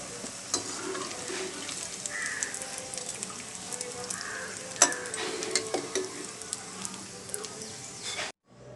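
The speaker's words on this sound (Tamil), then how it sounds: "அதே மாதிரியே எல்லாத்தையும் போட்டு பொரித்து எடுத்துப்போம்" Potato fingers deep frying in hot oil as crispy snacks, giving a steady close sizzle and bubbling throughout with scattered ticks and small clinks, then a sudden cut near the end.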